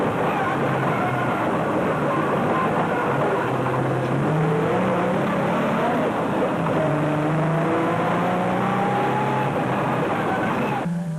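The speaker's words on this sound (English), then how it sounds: "In car with Corbett and Moore in the Nissan hardbody" Inside a Nissan Hardbody off-road race truck during a race, the engine drones loudly and continuously, its pitch climbing and dropping through gear changes under heavy rumbling road and cabin noise.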